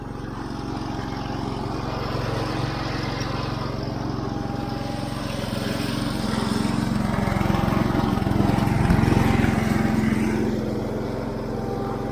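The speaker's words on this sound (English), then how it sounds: "I'm going to actually mow a little bit in this barnyard" An IH Cub Cadet 149 garden tractor mows a barnyard, its engine and mower deck droning steadily and close throughout, swelling slightly louder toward the end with no talk over it.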